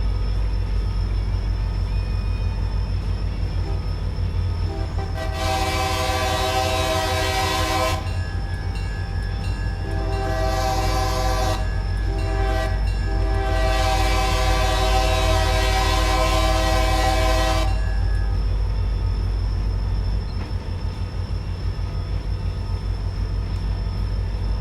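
SD40-2 diesel locomotives haul a 2,187-ton freight train, with a steady low rumble of engines and rolling cars throughout, broken by several loud horn blasts in a long-long-short-long pattern close by.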